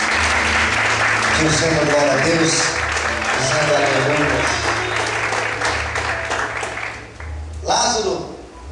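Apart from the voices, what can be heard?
church congregation applauding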